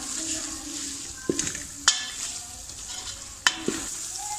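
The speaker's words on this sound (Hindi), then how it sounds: "दो मिनट हमने चनों को अच्छे से भून लिया" Black chickpeas roasting in a pan with spices and dried fenugreek, a steady sizzle broken by a few sharp scrapes and clacks of a spoon against the pan.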